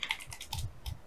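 Keys tapped on a computer keyboard while a name is typed into a form title field, a quick run of close, crisp clicks in several short bursts with no talking.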